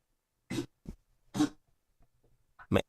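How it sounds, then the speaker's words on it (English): A dog in the background makes a few short, rough, cough-like huffs and snorts in separate bursts, close and fairly loud, with quiet pauses between them. "My dog ain't doing so good. You hear that?"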